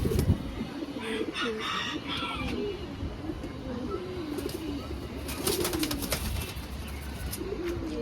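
Pigeons coo repeatedly on a house rooftop, soft and fairly close, with occasional rustling and wing flutters over a steady background hum.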